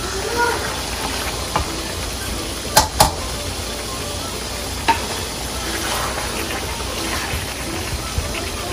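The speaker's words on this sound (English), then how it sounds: "now we are going to add tomatoes, 2 medium tomatoes, or 2 large tomatoes actually." Two large tomatoes added to a hot pan for Lahori murg choley, giving a steady frying sizzle and hiss with a few sharp clicks of a spoon stirring against the pan, close up and with no talking.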